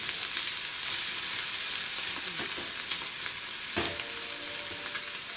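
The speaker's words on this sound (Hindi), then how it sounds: "प्याज को हमें सॉटे करना है, यानी ये ट्रांसलूसेंट जब हो जाए उसको ब्राउन नहीं करना" Onions sauté in a pan for dal tadka with a continuous, even sizzle and crackle. A few faint stirring scrapes rise out of it, quiet and close, with no speech.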